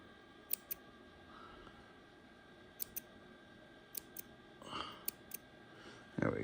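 Scissors snip the tip of embroidery thread in sharp little clicks, mostly in pairs, quiet and close in a still room, with brief rustling near the end.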